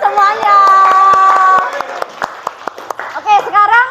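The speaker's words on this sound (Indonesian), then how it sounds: "Oke, tepuk tangan buat semuanya." Students in a math classroom clap in sharp, separate claps amid loud children's voices and shouting.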